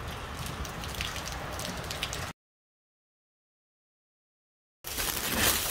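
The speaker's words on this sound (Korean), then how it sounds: "지금 이제 비가 많이 오고 있습니다." Heavy rain pours steadily outdoors as a dense, even hiss across the clip, broken by a gap of silence in the middle before the downpour resumes.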